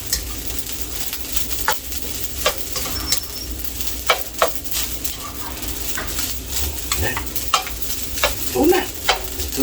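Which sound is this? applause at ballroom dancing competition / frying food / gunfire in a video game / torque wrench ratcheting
frying food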